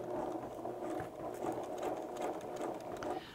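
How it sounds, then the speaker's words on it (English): Sewing machine basting a knit fabric sleeve, a quiet, steady, rapid stitching whir running throughout with no talk. "And I'm not going to backstitch again because this is basting."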